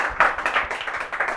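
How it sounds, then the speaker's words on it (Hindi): A small audience claps for a student at an award ceremony, a brief run of fairly quiet, separate hand claps in an uneven rhythm. "जोरदार तालियां हो जाए रवि के लिए।"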